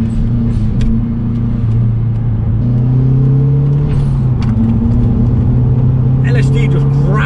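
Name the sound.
Mazda MPS car accelerating around a slippery roundabout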